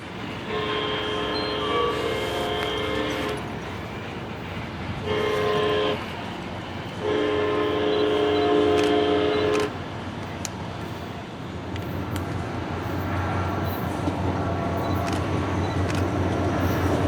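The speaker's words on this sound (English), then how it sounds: "I come here to find a northbound Sunrail train." A northbound SunRail commuter train sounds three loud horn blasts, the first and third long and the middle one short, over a steady rumble of rail noise that continues after the horn stops.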